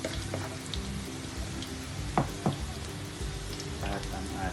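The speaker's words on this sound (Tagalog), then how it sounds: "So mainit na po, lalagay na po natin ang ating bawang. Hintayin natin mag-brown." Garlic fries in hot oil for Filipino vegetable spring rolls, a continuous crackling sizzle at moderate level with a couple of sharp pops and light spatula taps.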